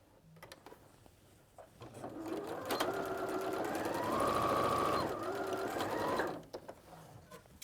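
A sewing machine runs a straight stitch through lined fabric, starting with a few clicks, then whirring steadily for several seconds before stopping, close and alone.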